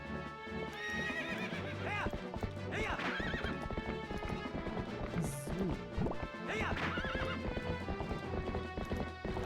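In Zelda: Twilight Princess, a horse whinnies loudly several times over clip-clopping hooves and game music, with a crash partway through.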